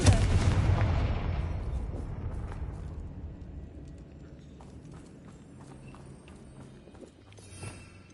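A fire spell cast in a magic-themed video game erupts in a loud blast that rolls out into a long decaying rumble, with faint game ambience and small clatters afterward.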